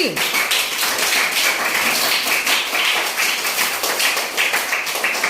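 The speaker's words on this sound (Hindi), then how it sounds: "वेरी गुड, तालियां बजाओ भाई।" Children in a Hindi-medium class 5 classroom clapping steadily for a classmate, a dense, continuous patter of many hands close by, with faint voices mixed in.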